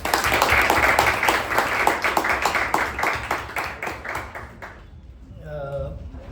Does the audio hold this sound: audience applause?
yes